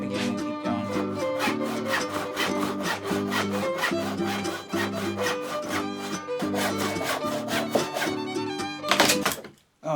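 A Japanese hand saw cuts through wood for a low Roman-style saw bench, giving a steady, close rhythmic rasp of repeated strokes throughout, with a brief knock near the end.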